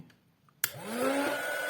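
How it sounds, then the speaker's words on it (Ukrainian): Near-silence, then a sharp click as a hair dryer powered by a Yoobao EN300 charging station switches on and settles into a steady, loud whirring roar with a rising motor whine. "І тепер беремо фен"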